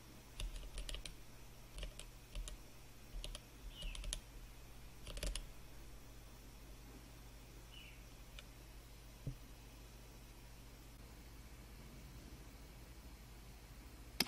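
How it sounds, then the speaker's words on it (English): Code typed on a computer keyboard, a few quick clusters of soft, close key clicks early on, then mostly quiet room hiss with a single click later. "type the following code in the package manager console"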